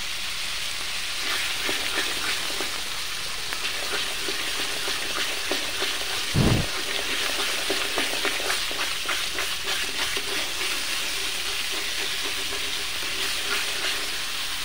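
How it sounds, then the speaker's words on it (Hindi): Masala frying in oil for a pumpkin and potato curry, a steady broadband sizzle throughout with a single brief low thump near the middle and faint stirring scrapes. "तो बस इसको भूनते जाना है, भूनते जाना है"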